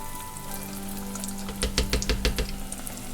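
Hot oil hisses steadily, then bursts into louder bubbling sizzles as crab croquettes go into the fryer, a few at a time.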